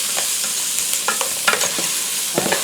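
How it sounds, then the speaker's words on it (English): Rice and garlic frying in a pan for Mexican-style rice, stirred constantly: a steady sizzle with scraping, clicking stirring strokes scattered throughout, close and fairly loud, with no voices. "Be sure that you're constantly stirring at this point, because if not, then you're going to have burned rice"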